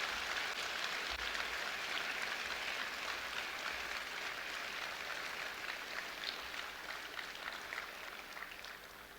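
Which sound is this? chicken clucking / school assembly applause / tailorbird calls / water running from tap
school assembly applause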